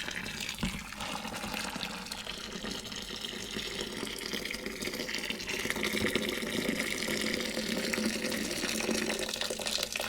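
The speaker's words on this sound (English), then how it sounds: "And we'll just pour several kettles of hot water onto it." A steady stream of hot water pours from a kettle and splashes into a container, continuous and fairly close, with no talking.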